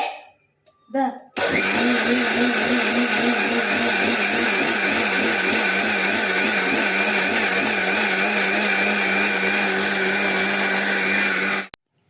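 A kitchen mixie (mixer grinder) motor whirs loudly and steadily for about ten seconds, starting abruptly after a brief moment of quiet and cutting off at the end.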